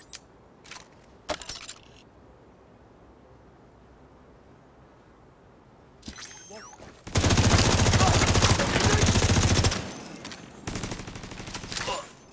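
Gunfire in the video game Far Cry Primal, a few scattered sharp shots early on, then a loud, dense burst of continuous firing for several seconds before fading into quieter shots.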